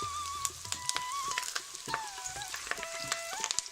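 Curry leaves and broken dried chillies frying in oil for radish sambar, a close crackling sizzle with scattered sharp pops and spatula clicks, no speech.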